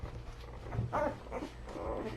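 Puppies and their mother dog Mo, heard as soft whimpers and a brief bark-like yip near the middle, fairly close, over a low steady background hum.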